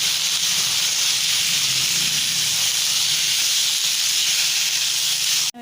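Chopped potatoes added to a hot pan and mixed, giving a loud, steady hiss of frying that holds unbroken before cutting off at the end.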